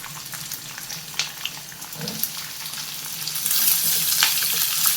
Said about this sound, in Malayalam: നല്ലോണം ഇളക്കി നമുക്ക് ഇതൊന്ന് വഴറ്റിയെടുക്കണം